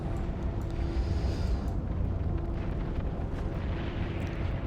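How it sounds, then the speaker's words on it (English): Explosions rumble through a space battle in EVE Online, a dense, continuous low roar with layered booming blasts and no clear gaps, loud and heavy throughout. "And then there we get explosions."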